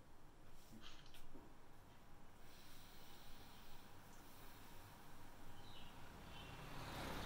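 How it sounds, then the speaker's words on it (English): Continuous low rumble of road traffic passing, a steady broadband wash of vehicles rising and falling at moderate distance. "there's some traffic going by"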